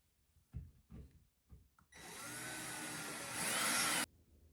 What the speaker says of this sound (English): Then you can drill the screw into the anchor.